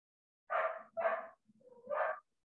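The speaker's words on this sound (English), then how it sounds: "it's my daughter's dog that's barking and whining" A dog gives three short barks with whiny edges, close and fairly quiet, separated by brief pauses in an otherwise silent room.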